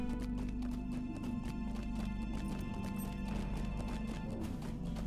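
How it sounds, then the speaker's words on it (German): A horse in the Lord of the Rings Online video game, with dense rhythmic hoof clip-clops over a loud, constant game soundscape and a faint whinny, no voice over it. "Jetzt haben wir hier sogar ein Pferdchen."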